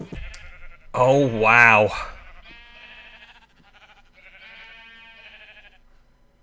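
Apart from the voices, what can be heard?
sheep bleating in video game Agrarian Skies 2 (Minecraft modpack)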